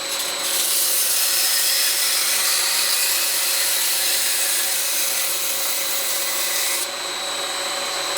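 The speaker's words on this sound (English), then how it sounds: "Bring the belt over to give you a softer edge on the plunge." A belt grinder grinds a knife blade made from an old file, a loud, steady abrasive rasp held close and unbroken for several seconds, easing slightly near the end.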